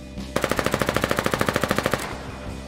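In the video game Foxhole, a gun volley fires as a rapid, evenly spaced burst of about twenty loud, close shots lasting roughly a second and a half, then stops abruptly.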